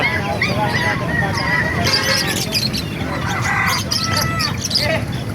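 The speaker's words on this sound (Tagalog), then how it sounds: "Pakita ko sa inyo mga kamaster, yung mga manok panabong dito" Fighting cocks and other fowl at a busy poultry market call and crow repeatedly over a constant crowd murmur, with honking, goose-like squawks rising up close.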